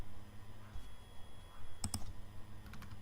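A computer mouse gives two quick, sharp clicks close by in a quiet room, alone with faint background hum.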